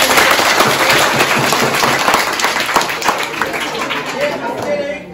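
A crowd claps for a quiz winner at a Social Equality Day event, a dense wash of applause that holds steady, then fades out near the end, with some talk mixed in.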